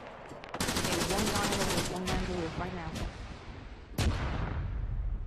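Rapid gunfire from the video game Arma 3 during an attack on a tower: dense automatic bursts with loud single shots over it, and a voice talks briefly in the middle.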